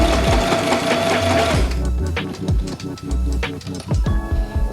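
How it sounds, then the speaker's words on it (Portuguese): A sewing machine stitches an espadrille in a short, close run of rapid mechanical clatter, then pauses and gives a few brief bursts. "Eu termino a costura, dou um retrocesso para fechar o ponto"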